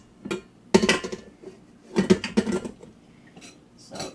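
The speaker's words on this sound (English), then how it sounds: "I'm going to scrape down the sides now before I add the whipping cream to it" A spatula scrapes and knocks against a mixing bowl holding cheesecake filling, a few clustered clinks and scrapes with quiet gaps between them.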